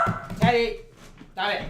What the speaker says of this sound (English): Apologies if you hear my dog barking a bunch.